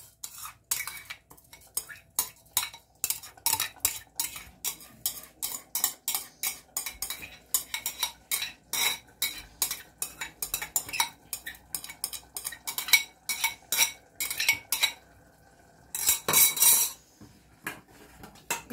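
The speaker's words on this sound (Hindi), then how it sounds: "अब जब तक ये हमारे टमाटर भून रहे हैं इसी में हम ये चावल भी डाल देंगे, क्योंकि हमको चावल भी करीब 3 से 4 मिनट भूनना है।" Rice is stirred and roasted in tomato gravy in a pan, making repeated close scraping and clinking strokes of a spoon against the pan in a quick rhythm, alone without talk.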